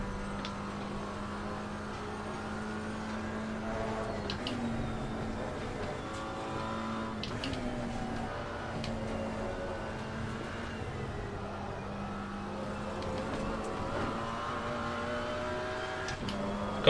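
Chevrolet Camaro GT4 race car in the Assetto Corsa Competizione racing game, engine droning steadily and loudly throughout, its pitch rising and falling through gear changes, with a few faint tyre and transmission sounds.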